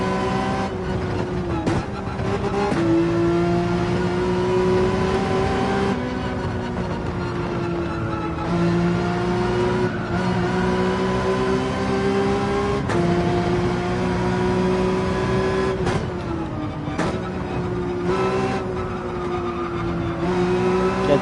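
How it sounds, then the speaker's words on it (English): A Porsche 911 in Gran Turismo 7 revs hard at high rpm on the Dragon Trail circuit, a loud steady engine whine that climbs and drops through gear changes for about twenty seconds without talk. "you can really, in the 911, be revving it in the blue flashy zone for oh so long"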